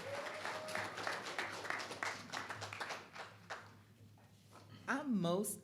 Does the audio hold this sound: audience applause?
yes